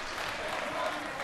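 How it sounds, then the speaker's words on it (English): Crowd at a high school boys basketball game between Blaine and Centennial applauding a player as he walks off during a substitution, a steady wash of clapping in a gym, under faint chatter. "I was wondering because people are clapping as he walked out."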